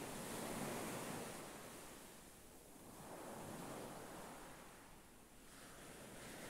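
Ocean waves wash in and out in slow, steady surges, a soft continuous roar of surf with no voices.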